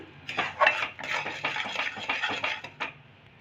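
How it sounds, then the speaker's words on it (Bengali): Boiled caramel syrup is poured from a metal pan into another bowl, with a spoon scraping and clattering against the pan in quick, close, irregular strokes that end with a final tap. "এবার আমি এটা ঢেলে নেব অন্য বাটিতে"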